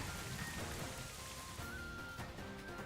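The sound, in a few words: rain weather in Pokemon Scarlet & Violet video game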